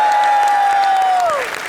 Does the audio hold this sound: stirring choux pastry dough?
no